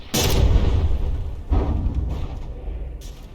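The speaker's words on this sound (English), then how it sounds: "Wait, it just fired 2 guns." Battleship guns in the naval combat game From the Depths fire two heavy booms about a second and a half apart, each with a long rumbling decay, loud and near, followed by a faint third thump.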